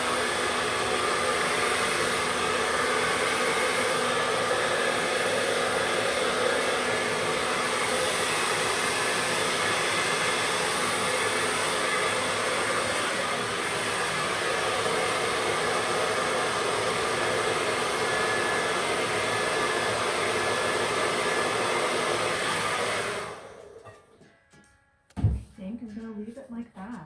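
A hair dryer blows steadily on acrylic paint in a Dutch pour, a loud continuous whooshing roar that runs unbroken for over twenty seconds before clicking off abruptly, followed by a brief faint thump.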